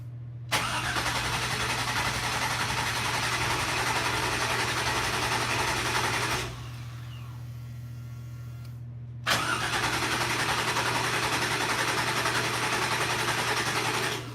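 A Toyota FJ40 with an LS engine cranks repeatedly without catching, a loud steady churning starter drone that stops for a few seconds and then resumes.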